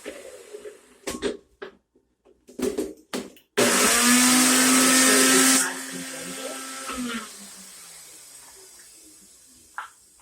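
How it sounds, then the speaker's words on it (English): A NutriBullet blender whirs loudly for a couple of seconds while mixing ingredients, following a few clatters of handling. It then winds down into quieter kitchen noise. "this is going to be what I put in my NutriBullet. Mix together really well."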